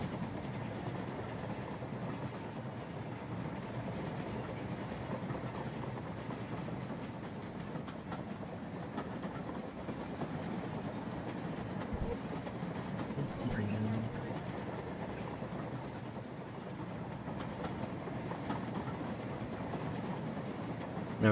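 A toy train in the Rolling Line video game runs steadily along its track with a continuous rolling rumble and faint clickety-clack that lasts throughout.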